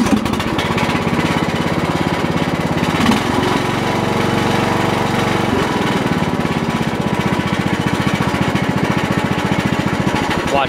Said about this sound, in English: The rattling you hear is the muffler's loose down there.